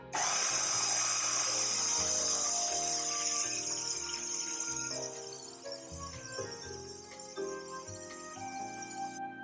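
A stand mixer runs at low speed mixing pizza dough, giving a steady motor whine with a bright high tone that eases after a few seconds, with irregular knocking and churning from the bowl beneath.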